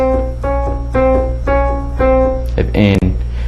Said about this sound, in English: there is a minor second or a semitone